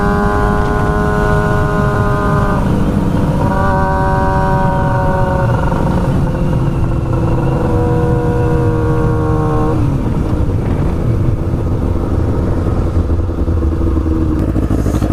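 A loud motorcycle engine runs close by, its harmonic drone rising and falling through several throttle swells before settling into a steady, rough idle with mechanical clatter.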